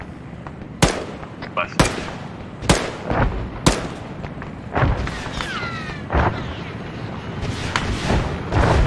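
Gunfire and explosions level a house during an Arma 3 battle: loud, sharp blasts roughly once a second over a rumbling background, followed by scattered crackling shots, with a voice speaking briefly.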